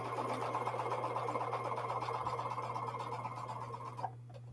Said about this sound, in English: it's time to sew more of my 4 patches